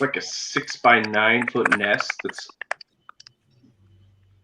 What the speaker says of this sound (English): Do you guys hear a noise? Some kind of clicking?